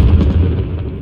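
Flak artillery fire in Call of Duty: WW2 on PS5, a dense, low continuous rumble of booming bursts throughout, loud and close, with no clear gaps.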